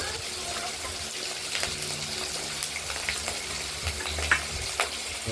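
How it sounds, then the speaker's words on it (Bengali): Fish fries in oil with a steady, moderate sizzle and crackle, dotted with small pops and a faint low hum in the background. "মাছটা ভেজে নেব"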